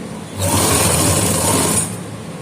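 Sewing machine stitching a belt onto a salwar, a steady loud whirring run of about a second and a half that starts and stops abruptly, with a softer mechanical hum before and after.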